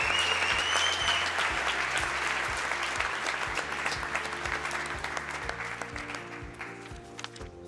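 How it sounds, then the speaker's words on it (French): An audience claps loudly for an entrance at a Students' United Nations event, dense sustained applause that gradually thins and fades toward the end. "Petit applaudissement pour l'entrée."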